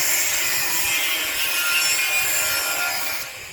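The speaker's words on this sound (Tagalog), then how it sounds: "At ito ang ating cutter." A power cutter slices through patio roofing material, giving a loud, continuous, high-pitched grinding hiss that holds steady for several seconds before easing off at the very end.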